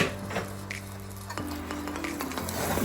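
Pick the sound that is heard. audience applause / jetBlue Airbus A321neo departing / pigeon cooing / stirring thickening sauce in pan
stirring thickening sauce in pan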